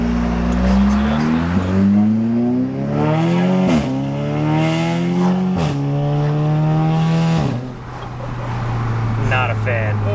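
An Audi S3 or Golf R with an aftermarket exhaust revs hard through the gears on a test drive, loud rising engine pulls broken by sharp shifts, with people talking inside the car.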